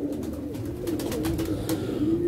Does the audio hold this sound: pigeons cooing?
yes